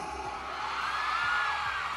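A fan crowd at an SB19 fan meet in a Robinsons Manila mall screams and cheers in one continuous, dense roar of mixed voices that swells slightly midway.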